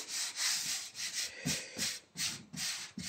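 A hand rubs repeatedly across smooth matte peelable paint on a Hyundai Veloster, producing soft, dry hissing swishes in uneven strokes, close and fairly quiet.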